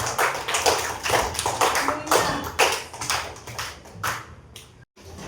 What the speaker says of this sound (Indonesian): tepuk tangan untuk Naura, tepuk tangan.